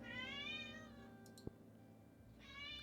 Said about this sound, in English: You can hear my cat screaming.